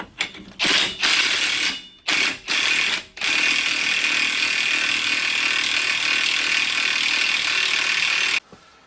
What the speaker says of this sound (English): I am going to run this on so far with the impact gun, just to make the tightening quicker